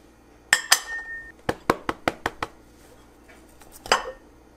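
A hot ramekin clinks and taps repeatedly as a brownie is released from it, with a quick series of sharp ceramic knocks followed by a final clatter.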